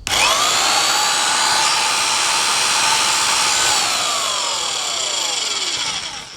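A Vevor core drill bores into a concrete block, a steady loud high-pitched whine with grinding that holds for several seconds and then tapers slightly at the end.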